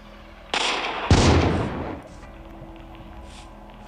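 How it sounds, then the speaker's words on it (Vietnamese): Two sharp gunshot blasts from a pirate gun in the Minecraft Hexxit addon ring out in quick succession, the second louder with a rough decaying tail before near silence. "Bây giờ mình sẽ cho các bạn nghe tiếng của cái súng này nhá."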